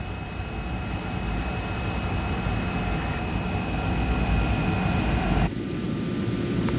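Jet airliner engines on Flight 811 hum steadily in a constant whining drone with a low rumble underneath, shifting tone near the end, with no voices.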